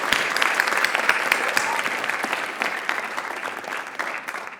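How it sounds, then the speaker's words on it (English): A school audience at a student writers' expo gives a steady round of applause for the student writers, dense, sustained clapping that stays loud throughout and tapers slightly near the end. "let's give one more round of applause to our student writers."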